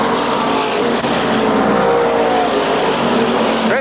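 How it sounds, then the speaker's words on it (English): SK Modified race cars thunder around the Waterford Speedbowl oval, a dense, loud wall of engine roar from several cars at once, steady throughout with a brief rising whine near the end; no talk. "Chris Jones looking for the lead with car number 9."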